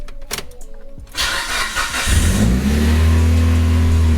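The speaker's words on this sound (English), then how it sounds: "That's the freaking hardest it's ever revved." A car fitted with a new Hyperflow cat exhaust cranks and catches, then revs hard into a loud, sustained, throaty roar close by.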